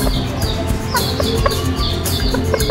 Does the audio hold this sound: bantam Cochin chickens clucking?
yes